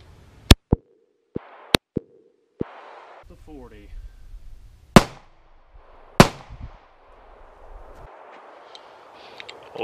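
Several sharp pistol shots from a SIG P239 in .40 S&W fired at body armor, single cracks spaced irregularly, loud and close, with some talk and rustling in the gaps.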